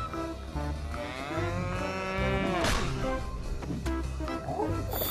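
A cow moos in a long, drawn-out low call, up close, with background music or sounds running throughout.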